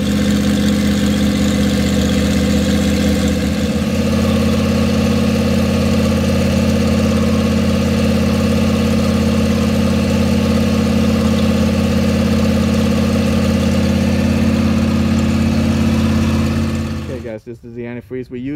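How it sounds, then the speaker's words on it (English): A Mercruiser 5.7-liter 350ci V8 boat engine runs at a steady idle with rabbit-ear flushing muffs on the outdrive, a loud, close, even rumble that holds for most of the stretch before cutting off abruptly near the end. "Now we're ready to start the motor."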